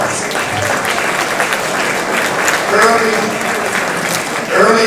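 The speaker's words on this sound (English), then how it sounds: "Can you give Randall a round of applause?" Audience at a 50th anniversary celebration at the Carnegie breaks into sustained applause, dense clapping throughout with some voices and cheers mixed in.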